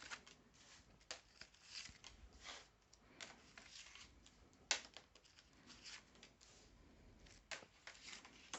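Tarot-style cards are shuffled for a 13-card reading, a faint close riffle and slap of cards repeating in quick irregular bursts, with no talking.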